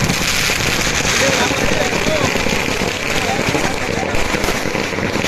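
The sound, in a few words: firecrackers bursting at Rameshwar palkhi festival, Malvan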